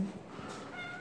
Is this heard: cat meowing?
yes